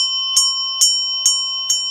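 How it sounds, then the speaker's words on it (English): Four bright bell strikes ring at an even pace, each with a sharp onset and a shimmering decay, over a steady sustained high tone as part of a cleansing meditation; close and clear, with no talking. "every time I ring the bells"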